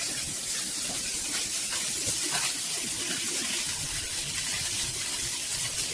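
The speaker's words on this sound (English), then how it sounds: "You can hear the fish sizzle as it's beautifully browning on both sides now." Steady broadband sizzling and hissing from fish browning in a pan, continuous and fairly close, with no talk.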